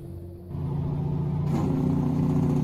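A heavy truck engine in American Truck Simulator rises into a sustained rev, a loud, steady low rumble that swells after a brief quieter start.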